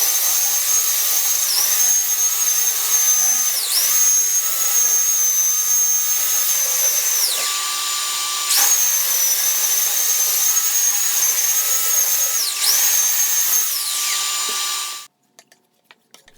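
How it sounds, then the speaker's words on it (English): An electric belt sander runs loudly and continuously over plywood, its motor pitch dipping each time it is pressed into the wood, then stopping abruptly near the end, leaving a few faint clicks. "More smoothing with the electric belt sander."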